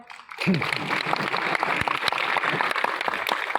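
An audience claps on request during a talk in Dungarpur, Rajasthan: a sustained, fairly even burst of many hands clapping that starts abruptly after a short pause and continues to the end.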